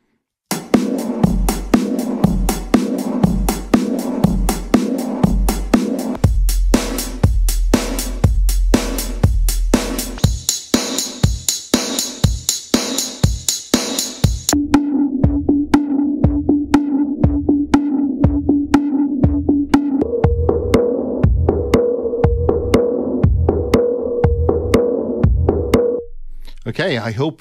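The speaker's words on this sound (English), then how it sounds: "let me play the drum pattern" Drum loop played through the AudioThing Dials effect on its drum animator preset, with steady punchy hits that later shift into filtered, pitched and pulsing tones, loud and continuous with no talking.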